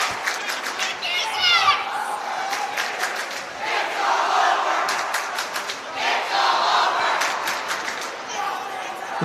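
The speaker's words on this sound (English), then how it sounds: "The most obvious cheer of the century." Crowd cheering at a boys' high school hockey game between the WGW Tigers and Messalonskee Eagles, a loud, sustained roar of voices and shouts swelling in waves, with some clapping mixed in.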